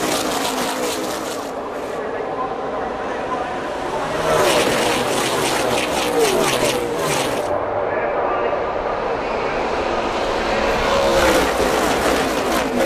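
NASCAR race cars roaring around Daytona in the closing laps of the Subway Firecracker 250, a dense continuous engine roar with passing surges, under steady race commentary.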